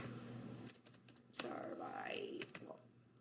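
Quick, light keystrokes clatter on a computer keyboard in short bursts, faint and close, while someone speaks quietly over the typing.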